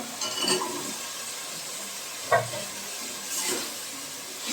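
Drumsticks sautéed with spices in a pan give a soft, steady sizzle broken by three brief clattering stirs, moderately close and without talk.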